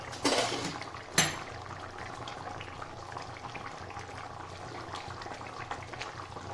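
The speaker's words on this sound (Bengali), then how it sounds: "ঝোল আমার টক বক করে ফুটে গেছে" Rohu fish curry with potatoes simmers in a pot, a steady soft bubbling boil running throughout with a couple of brief louder clatters near the start.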